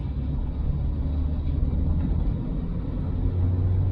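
A car driving on the road, heard as a steady, continuous low rumble of engine and road noise from inside, with no voices.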